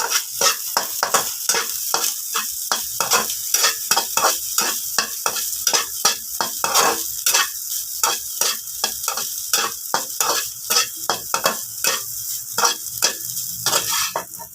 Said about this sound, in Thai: ผัดจนข้าวแห้งนะคะ ข้าวแห้งดีแล้วก็ใส่ต้นหอมลงไปจ้ะ